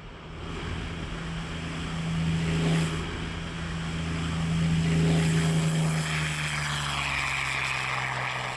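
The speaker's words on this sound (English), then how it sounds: "One of the results was this aircraft," A Yak-3 propeller fighter aircraft drones steadily, its engine a deep sustained hum that swells and fades slightly as it passes, moderately loud and alone without talk.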